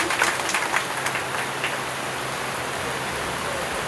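Heavy rain pours down during an outdoor event, a dense, even hiss with scattered sharper patters early on, steady and fairly loud with no clear talk.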